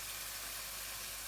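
Couscous pieces sizzling in a big frying pan, a steady, even hiss of frying that holds without pause throughout, close and moderately loud, with no voices.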